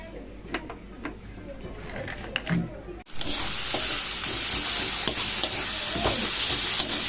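A pan of Bengali fish curry, macher jhol, begins cooking after a sharp clank, breaking into a loud, steady close-up sizzle with stirring scrapes; quieter kitchen knocks and clatter come before it.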